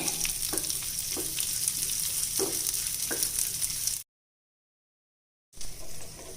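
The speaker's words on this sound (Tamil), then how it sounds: "அடுப்பை நல்லா குறைச்சி வச்சு இந்த நெய்லேயே இதை வறுத்து எடுத்துக்கலாங்க" Cashews and raisins roast in ghee over a low flame for Ramzan sheer khurma, giving a soft, steady sizzle with a few distinct stirring scrapes. The sound cuts to full silence for about a second and a half, then the sizzle resumes.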